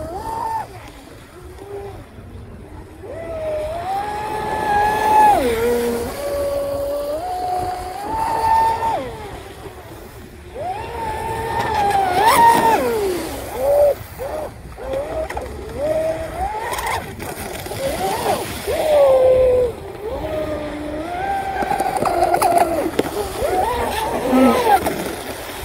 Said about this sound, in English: Oh, that damn Rocket motor's got some juice, baby.